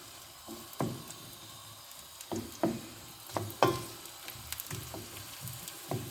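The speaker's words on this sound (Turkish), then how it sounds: "Yarım su bardağı yağ koydum. Kavuruyorum." Chopped onions and peppers sizzle steadily in half a glass of hot oil, with occasional knocks and scrapes of stirring breaking through the close, constant crackle.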